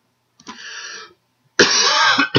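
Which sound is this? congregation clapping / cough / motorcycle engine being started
cough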